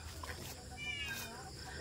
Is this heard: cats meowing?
yes